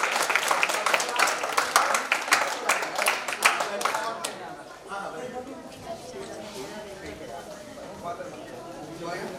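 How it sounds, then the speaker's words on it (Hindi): Audience at a Louis Braille birth anniversary ceremony in India claps loudly and steadily at first, then the applause thins and fades under a continuing murmur of voices and room noise. "एक बार जोरदार तालियों के साथ।"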